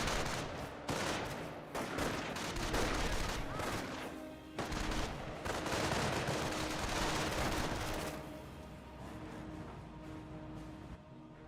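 Sustained rattling gunfire and explosions fill a Company of Heroes battle between German Grenadier squads and engineers, with dense bursts of shots for most of the stretch before easing into a quieter rumble.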